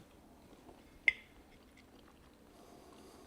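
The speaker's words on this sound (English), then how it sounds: "What a beautiful chew." Close-up chewing of a bite of rustic pasta folded with sauce and cheese: quiet soft mouth sounds, with one sharp wet click about a third of the way through.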